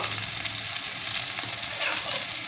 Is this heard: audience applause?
no